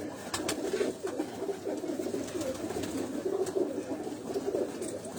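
Old breeder pigeons at a breeding setup, cooing in soft repeated throaty phrases close by, several birds overlapping with occasional sharp clicks and no talking.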